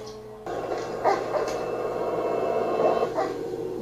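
A dog gives a few short, high yelps over a steady background hum.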